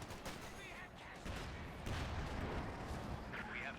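Mortar and artillery fire in Company of Heroes 2 rumble steadily as a dense, moderately distant barrage of booms and crackling impacts, with faint talk underneath.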